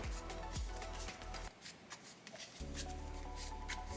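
A deck of Yu-Gi-Oh! cards being shuffled by hand, close and quiet, with bursts of riffling separated by a short pause in the middle.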